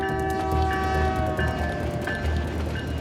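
An empty 152-car coal freight train rolls through the Rocky Mountains with a steady, loud low rumble and rhythmic clatter of wheels over rail joints, with the engine's drone continuous and no voices.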